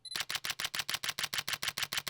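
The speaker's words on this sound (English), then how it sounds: "what it sounds like when we have the shutter on, so to speak, so you guys can hear how loud it is" Sony A7C camera shutter firing with silent shutter off, a rapid burst of about fourteen crisp mechanical clicks in a fast, even rhythm, close and loud with nothing else heard.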